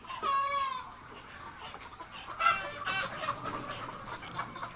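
Chickens in a poultry shed cluck while drinking water, giving repeated fairly faint calls close by, with a louder run of clucking midway.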